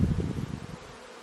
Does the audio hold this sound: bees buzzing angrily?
yes